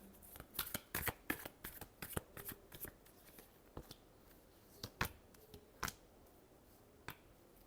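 Tarot cards being shuffled in a quick run of crisp riffling bursts and taps, close and fairly quiet, with short pauses between flurries.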